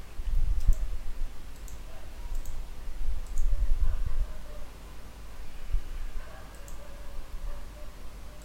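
A computer mouse is clicked during a software installation, heard as a few faint, scattered clicks and light taps over quiet room noise.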